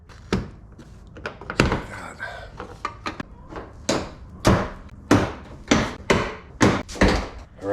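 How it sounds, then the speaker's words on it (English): Plastic fasteners popped loose from the rear hatch trim cover of a 2020 Toyota 4Runner, a series of sharp, close thunks and snaps, irregular at first then coming in a steadier rhythm, with faint rustling between. "I'm going to go ahead and pop this cover off"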